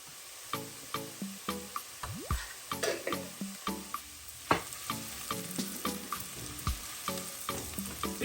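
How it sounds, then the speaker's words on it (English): Onions browning in a pan for an oxtail devil fry: a constant close sizzle broken by regular scraping and stirring strokes, with no voices. "Now the onions are getting brown"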